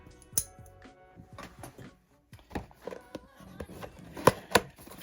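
Plastic and cardboard packaging of a G.I. Joe Classified Series action figure being sliced open, a series of crisp cuts, scrapes and crinkles close by, with a few sharp clicks near the end.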